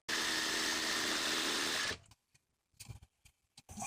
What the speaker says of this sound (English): Now we could tighten up the base of the shock absorber, the nut and bolt here.